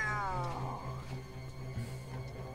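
A cat in the video game Soul at Stake lets out a clear, drawn-out meow that falls in pitch over a steady low game hum, followed by faint ambient sounds.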